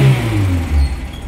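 A 1987 Suzuki Carry minibus engine is revved briefly during a test: a short, loud, low burst that rises then eases off, close by with no talk.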